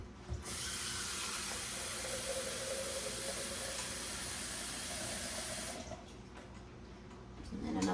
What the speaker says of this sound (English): I'm gonna add some nice cold water.